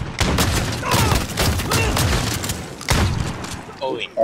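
Gunfire on the Docks map in Call of Duty: Modern Warfare Infected mode, a dense run of rapid shots and booms that continues throughout, with brief lulls and a voice heard near the end.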